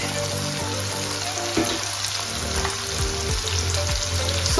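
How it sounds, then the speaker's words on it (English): Sauce frying in a pan is stirred quickly, a steady sizzle and bubbling crackle with soft scraping strokes and a few sharper knocks of the utensil, close by and without talk. "a quick stir for like 2 minutes"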